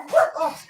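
A dog gives a short, close bark, two quick yips in under a second with nothing else around them.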